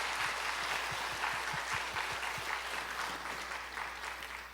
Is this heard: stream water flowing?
no